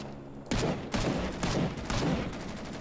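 A gun fires in Rising Storm 2: Vietnam in a quick burst of several loud shots, close and evenly spaced. The shots start after a short quiet moment.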